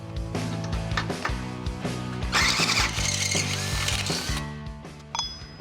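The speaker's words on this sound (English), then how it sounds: "I have to drill the shock hole out to about 3/4 of an inch." A power drill whines and grinds through metal, widening a truck shock mount hole to about 3/4 inch, its pitch shifting with load, with a squealing burst in the middle before it winds down.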